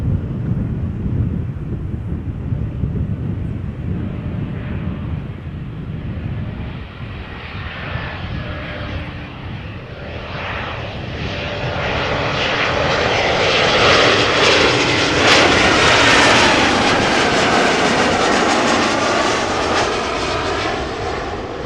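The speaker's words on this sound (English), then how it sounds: "the Cargolux arriving from Nairobi, flying in the vicinity of Leiden" A Cargolux Boeing 747 freighter arrives at Amsterdam Schiphol, a deep jet roar building from a distant rumble to a loud, close whine and rush as it passes overhead, with wind buffeting the microphone.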